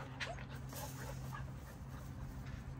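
Blue XL Pitbull puppies whimper and yip faintly and intermittently over a steady low hum, with a soft voice murmuring in the background.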